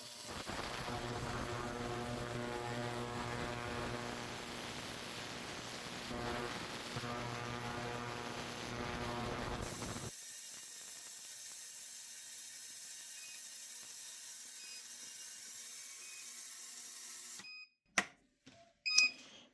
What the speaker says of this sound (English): So let's turn on the ultrasonic cleaning mode